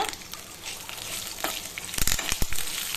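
Betel leaves sauté in hot oil, a steady close sizzle with scraping stir strokes and a cluster of sharper clatters near the end.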